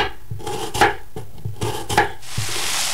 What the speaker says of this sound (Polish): Cebulę kroję w pół plasterki.